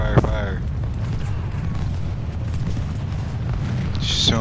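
Massed cannon and musket volleys in the Civil War strategy game Ultimate General: Civil War make a dense, continuous rumble of booms at the scene of a river crossing battle.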